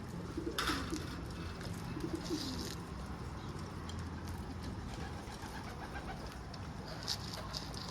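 Doves coo softly in short, low, burbling phrases against an outdoor background that is mostly steady, with faint chirps from other birds.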